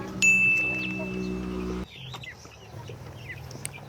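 A chicken clucks and calls nearby in a sawdust-bedded coop, with a rooster-like cry at first and softer bird sounds after, over a steady background hum.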